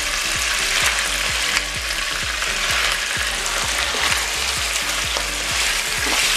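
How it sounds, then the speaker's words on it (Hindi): Bone-in fatty mutton, about 750 grams, sizzling and frying in spice paste over medium-high flame, with a steady loud sizzle and regular scraping stirs throughout; no talking. "मटन को जो है हमने भूनना है।"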